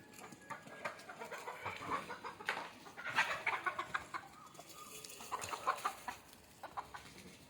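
Country chickens cluck and squawk inside a coop at morning, a busy scatter of overlapping calls and short cries, moderately close but not loud, over a faint background.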